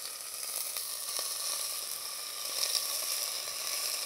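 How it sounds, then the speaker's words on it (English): Steady, fairly quiet sizzling of beef frying in hot oil in a pot for stew, a continuous crackling hiss with small pops, no voices. "we want to start frying our meat. And you want to hear that noise"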